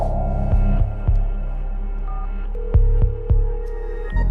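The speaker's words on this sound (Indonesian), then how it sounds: "Aku akan telepon gubernur sekarang." Telephone dialing tones are heard as a caller rings a governor: a steady tone with several sharp clicks and short tone changes, close and loud, with no talking.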